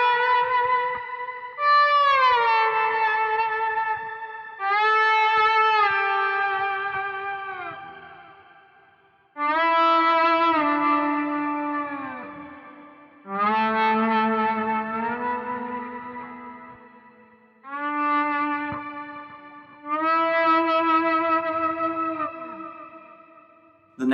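Electric guitar played through a BOSS GT1000CORE patch with shimmer reverb set to 4.4 seconds, a series of sustained, bending chordal notes that swell and decay into long, airy echoing tails, clear and loud with no talking.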